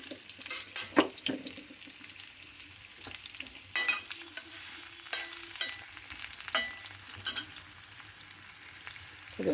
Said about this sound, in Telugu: సొరకాయ ముక్కలు వేయించుకోవాలి సపరేట్. వేగాలి, కొద్దిగా వేగే వరకు వేయించుకోవాలన్నమాట